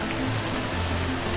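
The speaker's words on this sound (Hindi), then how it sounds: "बहुत ही तेज़ की बारिश होने लगी और बिजलियां कड़कने लगी।" Heavy rain pours steadily at Kainchi Dham, the Neem Karoli Baba temple in the hills, a dense, loud, unbroken hiss of drops on surfaces, with no voices.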